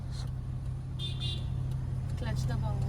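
Car idling with a steady low engine hum during a driving lesson as the driver shifts into first gear, with an instructor talking over the continuous rumble.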